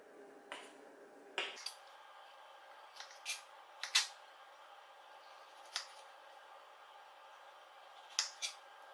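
Scissors snip several times in a quiet room, each cut a short crisp click spaced irregularly, some coming in quick pairs.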